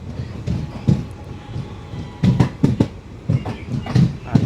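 An express train pulling out of Mangalagiri station on the Guntur to Rayagada run gives a steady rumble broken by repeated clickety-clack bursts of wheels over rail joints, close and fairly loud.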